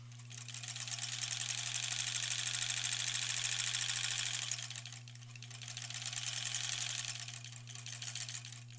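A sewing machine stitching quilt blocks into rows, a rapid steady mechanical whir with a constant low motor hum, running in two long bursts with a brief slowdown between, close and alone.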